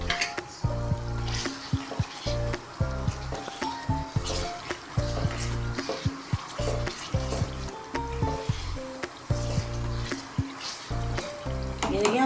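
Green chillies fry with masala in a pan for dhaba-style mash dal. A spoon scrapes and clatters in a quick, repeated rhythm over a soft, steady sizzle, heard close up.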